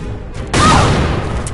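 A loud in-game explosion bursts in Lara Croft and the Guardian of Light, a sudden broadband blast that rolls on with crackling debris for about a second.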